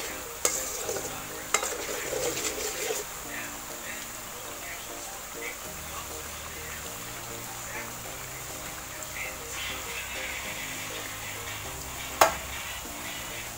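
Banana chips, sugared and plain salted kinds, frying and sizzling steadily in a pan while a utensil stirs them repeatedly, a continuous close cooking hiss with scattered scraping, ending in a sharp clack.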